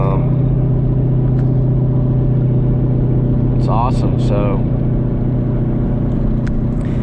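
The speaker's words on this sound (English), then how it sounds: "Something's in the front, as you can hear probably in the video, some vibration." Steady loud low drone and rumble inside a moving 2008 Toyota Prius with a vibration from the front end, continuous road and engine noise under brief talk from the driver.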